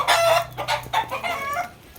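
Fighting rooster, a gamecock, clucking and crowing up close, with a few loud, harsh bursts in quick succession that fade toward the end.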